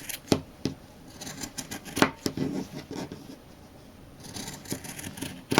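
Scissors trimming fabric around the edges of a DIY bag, a series of close, crisp snips and rustles in irregular bursts, with a quieter stretch before more cuts near the end.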